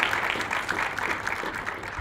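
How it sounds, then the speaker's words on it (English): Audience applause at the launch of a university global centre for health workforce intelligence, a steady dense patter of clapping throughout with no talk over it. "Let's give a round of applause for the responses"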